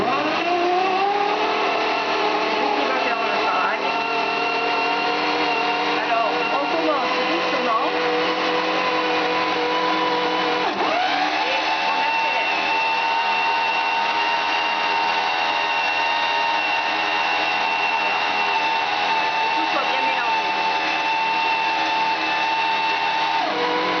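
A blender runs continuously at high speed while mixing an amber rum Valentine's cocktail, giving a loud, steady motor whine that dips in pitch briefly midway and then holds.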